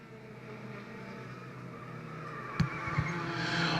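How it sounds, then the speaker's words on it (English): Four-cylinder race cars start a race at Riverglade Speedway, a distant engine drone building steadily with a sharp thump and brief tire noise, no talk. "Side by side at the start, green flag is down. We're going racing this time by."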